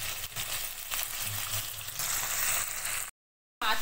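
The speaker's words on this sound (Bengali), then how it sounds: "মাছটা ভাজা হচ্ছে" Soft pabda fish shallow-frying in a pan for a Bengali recipe made without mustard, giving a loud, steady close sizzle with a little stirring, a brief cut to silence, then sizzling again.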